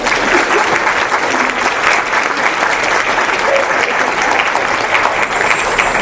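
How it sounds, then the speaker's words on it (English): An audience at an education summit gives sustained, even applause, a loud and dense clapping that continues unbroken for around six seconds. "Let's give them a round of applause"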